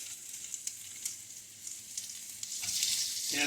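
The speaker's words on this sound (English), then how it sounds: "I can hear these things starting to sizzle." Sous vide lamb sizzling in a hot pan over a high flame, a steady faint crackling hiss with small pops that swells louder near the end.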